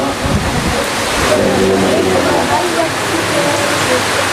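Heavy rain pours steadily during an outdoor religious gathering, a loud, dense wash of noise throughout, with faint voices and murmured speech under it.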